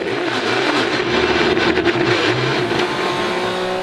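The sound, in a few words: onboard race car engine in Supercar Challenge race at Assen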